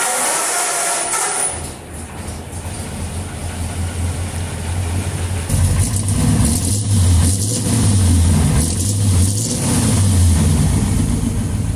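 A Ford 33 car engine runs loud and close, with a rough low idle that rises into repeated revs and falls back, over steady mechanical noise.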